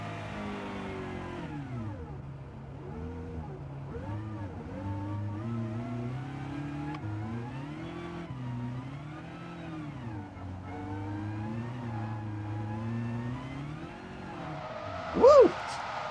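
A race car engine in Gran Turismo 7 revs up and down continuously, its pitch rising and falling through gear changes. The sound is steady and close, and a brief squeal comes near the end.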